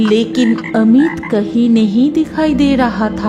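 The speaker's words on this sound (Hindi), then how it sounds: "एक बगुला और मेंढक की आवाज आ रही थी" Frogs croak at dusk near a pond, a repeated croaking that runs steadily under spoken narration.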